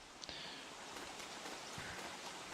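Rain falling in the game Don't Starve, a soft steady patter with scattered droplet ticks and faint rustling, quiet and continuous.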